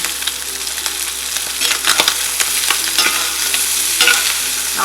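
Salted goat liver browning in a pan makes a loud, dense sizzle, with stirring scrapes and crackles running through it.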